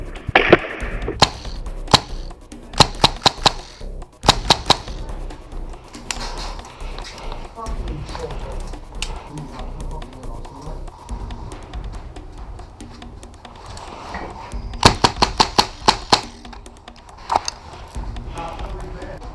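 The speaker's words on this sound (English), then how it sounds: "Now after trading a few shots with this guy in the opposite building, check out how close this shot was to almost taking me out." Sharp popping shots from a Tippmann rifle crack in quick clusters during a skirmish game in a town, with bursts at the start and again near the end and a person talking in between.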